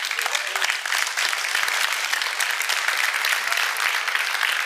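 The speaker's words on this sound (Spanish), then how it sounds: "Si aprendiste algo, da un aplauso, Señor." A church congregation claps in sustained, even applause, a dense wash of hands that stays steady throughout.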